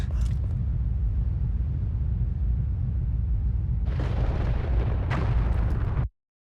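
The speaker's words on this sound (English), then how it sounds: "that's a little bit of a bigger explosion" A large explosion from a trailer for the Breath of the Wild sequel video game: a sustained deep rumble swells into a loud, bright blast partway through, followed by a second burst before cutting off abruptly.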